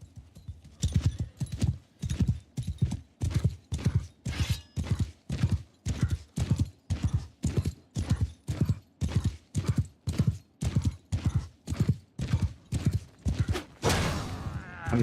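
Horse hooves clip-clop in a medieval video game battle with mounted archers, a steady galloping rhythm of heavy thuds repeating about twice per second for the whole stretch, loud and close, ending with a brief burst of noise.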